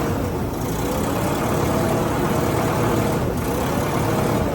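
An engine idling steadily after a carburetor fuel-air mixture screw adjustment, a loud, continuous, even rumble close by with no talk.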